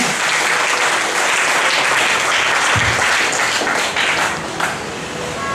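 Loud, full audience applause fills the space continuously, a dense wash of clapping from a large crowd with a brief thump partway through and a slight easing toward the end.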